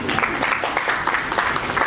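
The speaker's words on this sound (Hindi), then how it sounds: "जोरदार तालियां सभी" An audience at a national teachers' award ceremony breaks into brisk, lively applause. The clapping is fairly close and steady throughout the short burst, with a voice faintly underneath.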